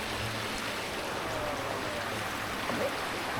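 Stream running beside a waterfall in Chiang Mai, a dense, steady broadband rush of flowing water that stays constant throughout, with no voices.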